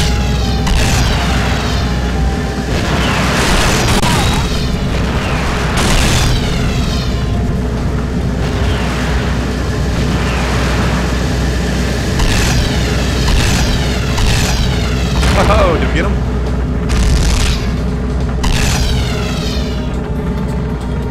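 Continuous booming blasts and rumbling explosions from a boss fight in the shooter Nightfire, with a rocket launcher in play, loud and sustained over a dense roar for the whole stretch.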